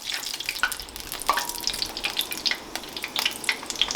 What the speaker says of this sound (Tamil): இப்போ ஒவ்வொண்டா போட்டு இதுக்குள்ளே பொரிச்சு எடுப்போம்